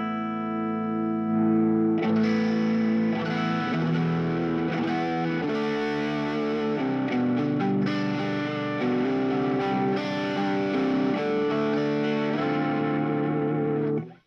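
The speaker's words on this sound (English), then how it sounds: "If you edge it up a little bit, it'll start to go into that kind of creamy saturation" A Vox guitar amp turned up toward creamy overdrive saturation, steady strummed and picked chords with a warm, slightly distorted sustain, held at an even moderate loudness throughout and heard alone before fading at the end.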